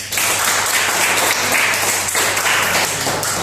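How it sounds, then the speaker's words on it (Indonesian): Students in a classroom applaud together, a short burst of brisk, dense clapping that holds steady for a few seconds before stopping. "tepuk tangan untuk next ya"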